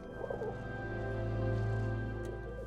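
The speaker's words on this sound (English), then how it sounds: "manufacturing and designing a palette of bird vocals that would emote what we were seeing on screen" Designed bird vocals built as a film sound effect, a soft cooing, dove-like call over a dense sustained tonal bed, close and even in level.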